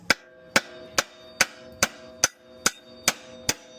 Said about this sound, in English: I'm gonna hit it with the hammer, the top right here